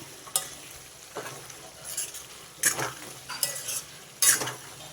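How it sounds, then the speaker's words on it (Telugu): Ginger garlic paste is stirred in a hot pan for a chicken curry, a spoon scraping in several separate bursts over a steady low sizzle, close and fairly quiet. "ఒక పెద్ద స్పూన్ అంత వేసేసుకున్నా నేను దీన్ని కూడా బాగా కలుపుకోవాలి"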